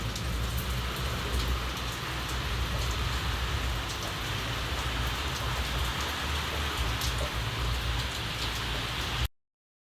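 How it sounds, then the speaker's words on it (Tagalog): Heavy rain pours steadily, a dense, loud hiss of drops striking surfaces nearby, unbroken until it cuts off abruptly at the end. "At dito naman po ngayon ay malakas ang ulan."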